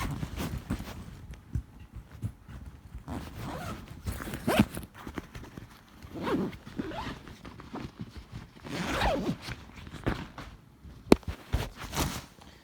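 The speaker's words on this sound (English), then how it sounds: "If you want, you can unzip them. But let me get these unzipped." Zippers being pulled open on the compartments of a Deuter Transit 50 backpack, several separate zipping strokes with rustling fabric and handling noises between them, close and fairly quiet.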